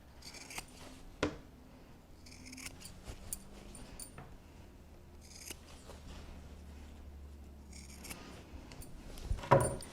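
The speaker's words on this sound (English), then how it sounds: "I'm going to cut all my corners on a diagonal" Scissors snipping diagonal corners off fabric for a notebook holder, a series of quiet, sharp cuts spaced irregularly, with soft rustling and handling between them, close and alone.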